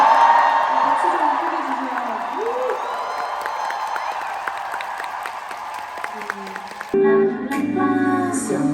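Concert audience applauding and cheering with a live band on stage, a dense wash of clapping and whoops under music, breaking off near the end as singing and music take over.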